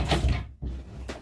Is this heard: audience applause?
no